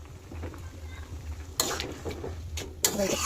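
Paneer being stirred into chana dal in a cooking pot, a soft scraping and stirring sound with a couple of sharper spoon-against-pot scrapes, close and moderately loud.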